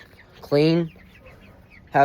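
A Barred Rock rooster lets out a short, harsh squawk, then begins another about a second later, close by with quiet background between calls.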